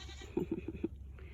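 Goats bleat in a goat house, a short run of four or five close, moderately loud bleats in quick succession, then quieter background noise with no speech.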